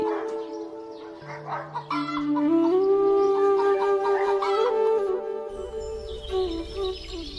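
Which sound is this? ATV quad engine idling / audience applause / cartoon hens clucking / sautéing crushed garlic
cartoon hens clucking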